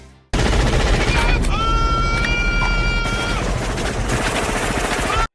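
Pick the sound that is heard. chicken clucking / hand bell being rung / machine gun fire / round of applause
machine gun fire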